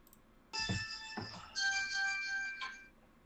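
A phone ringtone plays off camera, a faint electronic melody in two short bursts with a pause between, alone and with no talking.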